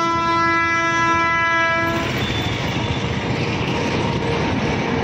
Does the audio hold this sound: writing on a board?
no